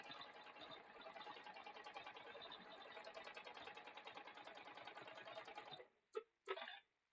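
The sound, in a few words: sewing machine stitching a quilt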